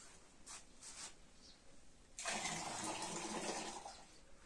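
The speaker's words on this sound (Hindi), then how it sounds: "ये लोटा हमें पानी देता ही रहेगा, कभी कम तो कभी ज्यादा" Water pours from a small brass lota pot during a stage magic trick, first as faint intermittent trickles and then as a steadier, louder splashing stream for the last two seconds, with no talking.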